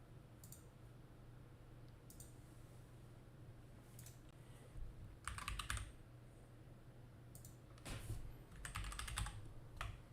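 Scattered bursts of typing on a computer keyboard while writing Unity code, with quick clusters of key clicks between quiet pauses, close and fairly soft.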